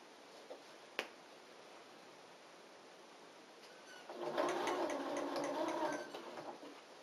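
A sewing machine stitches a hat crown to its brim, a steady mechanical hum that starts partway through after a quiet stretch with a single sharp click.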